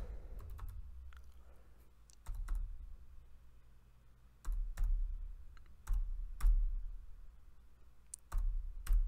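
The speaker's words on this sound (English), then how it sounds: "So, let me type in my MAC address." Typing on a computer keyboard while entering a MAC address for a Wii homebrew setup, short bursts of close key clicks separated by pauses, with soft low thumps as the hands shift.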